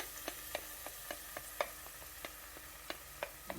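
Prawns and yellow bean paste fry in a pan, a soft sizzle under a steady run of light scraping ticks from stirring, close and fairly quiet.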